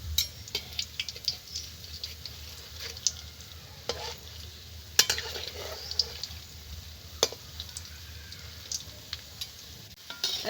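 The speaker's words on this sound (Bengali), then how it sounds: "এখন মিষ্টিটাকে ভেজে নেব।" Gulab jamun sweets fry quietly in hot white oil in a wok, a faint, soft bubbling sizzle with scattered small pops and clicks throughout.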